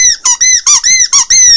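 A rubber Wheezy penguin dog chew toy squeaks loudly and close up, seven sharp, high-pitched squeezes in an even rhythm with brief gaps between them, heard alone.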